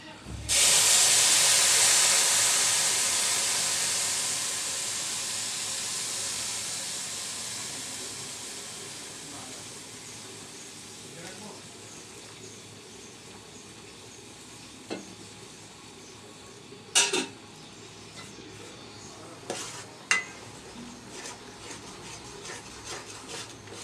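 Hot liquid milk poured into a pot of fried laccha semai hits with a loud hissing sizzle that gradually fades to a soft bubbling simmer, a few clinks near the end, no talk.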